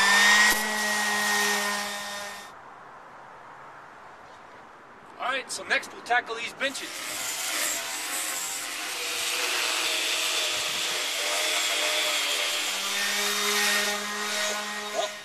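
A power sander works on a wooden picnic table, its steady motor whine running loud at the start and again from mid-clip onward, with someone speaking during a quieter stretch between.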